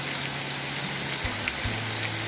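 Heavy rain pours steadily over a home garden full of plants, a dense continuous hiss at moderate level with a low background hum, no voices heard.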